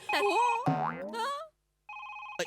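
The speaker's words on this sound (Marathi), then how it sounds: "फोन आला, फोन आला, फोन आला" A new touchscreen mobile phone, given as a company gift, rings with a steady electronic tone after a burst of comic, cartoonish warbling sounds, close and fairly quiet.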